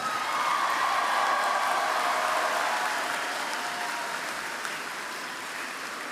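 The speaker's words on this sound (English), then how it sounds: "Give another round of applause to Ms. Jones." A large crowd at a 2023 undergraduate university commencement gives a sustained round of applause, a thick, steady roar of clapping that eases slightly in volume toward the end.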